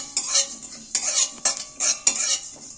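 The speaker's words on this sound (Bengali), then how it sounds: "জিরেটাও নাড়াচাড়া করছি, কিন্তু জিরেটাও খুব হালকা সময়ে ভাজা হয়ে যাবে।" Ground cumin roasting in a wok, stirred with a metal utensil in a few scraping strokes with clinks against the pan, over a faint sizzle.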